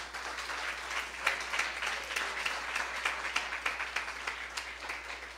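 A church congregation claps in a steady, moderately quiet round of applause, continuous and even throughout, with no voices over it.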